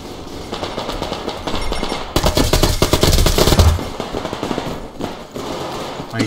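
Gunfire in the video game Survarium, with rapid automatic bursts and sharp shots, loud and close, swelling into a dense volley midway before trailing off into scattered reports.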